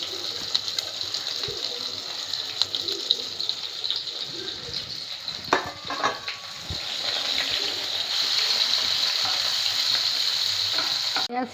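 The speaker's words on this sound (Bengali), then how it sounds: "এবার পেঁয়াজগুলো ছেড়ে ভেজে নিচ্ছি।" Onions sizzling in a pan of hot oil, a steady crackling hiss that grows fuller toward the end, with a few stirring clatters in the middle.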